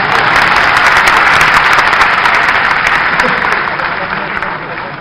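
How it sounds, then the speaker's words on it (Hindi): Applause fills a BJP office gathering in Bhopal marking two years of the state government: steady, loud clapping from a large audience that gradually fades toward the end, with a voice speaking underneath. "उधर ताली बज रही है, इधर भी बजाओ ना।"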